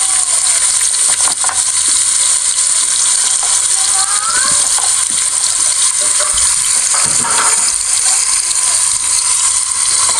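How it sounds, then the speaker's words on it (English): Onions dropped into a hot pot for pilau, a loud, continuous hissing sizzle of frying that stays steady throughout, with occasional stirring scrapes and clatters, close up and with no talking. "So in our pot, in goes our onions"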